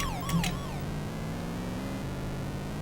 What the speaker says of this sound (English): Oh, the ambulance.